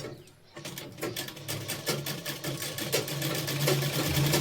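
A sewing machine stitches blouse fabric, starting after a brief pause and running in a steady, rapid needle rhythm that builds slightly in loudness.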